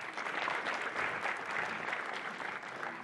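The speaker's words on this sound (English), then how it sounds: "round of applause for Fred, please, yes." Steady applause from a press conference audience, dense and even throughout with no voices breaking through.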